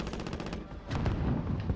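Video game gunfire crackles in a rapid burst of evenly spaced shots, followed by a brief pause and then a heavier, booming cluster of blasts, all fairly close and loud.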